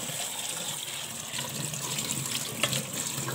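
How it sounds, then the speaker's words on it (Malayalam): Cold tap water runs steadily over cauliflower florets being washed in a kitchen sink, a continuous moderate splashing gush with no talk. "ഇനി നമുക്ക് കുറച്ച് തണുത്ത വെള്ളം കൂടെ ഒഴിച്ച് കഴുകി കൊടുക്കാം."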